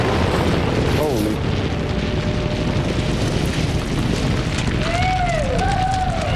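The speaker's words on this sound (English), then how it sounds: "One very large explosion just went off." A large rock-blasting explosion at a quarry face roars as a loud, sustained rumble filling the whole clip, with a brief voice near the start and faint tonal whistles toward the end.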